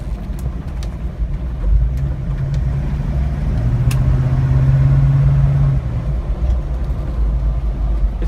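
A 1974 Blazer drives along with a loud, steady engine drone and road rumble that swells slightly midway and holds throughout.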